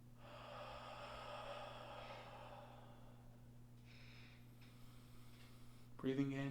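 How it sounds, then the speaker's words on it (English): Slow, steady breathing during a grounding and mindfulness exercise, with long airy inhales through the nose and exhales through the mouth, close and fairly soft over a constant low hum, ending in a brief sharper sound. "Breathing in through the nose and out through the mouth."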